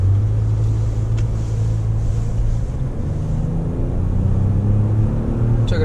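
A Lexus RX350L engine accelerates with a steady, loud low rumble and brief shifts in pitch as the transmission downshifts, heard from inside the vehicle without talk.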